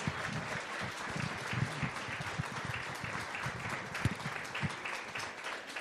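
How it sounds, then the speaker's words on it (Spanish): A church congregation applauds at a Spanish-language service, a steady wash of many hands clapping at moderate volume with occasional louder claps poking through. "Si le vamos a dar el aplauso al Señor, dénselo con todas sus fuerzas"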